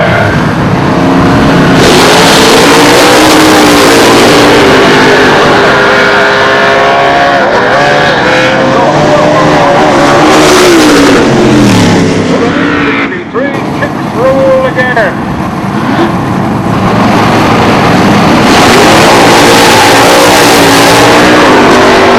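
Race cars at Toronto Motorsports Park, a Camaro among them, roar and rev loudly with shifting engine pitch as they accelerate and pass, under continuous excited commentary over a public address.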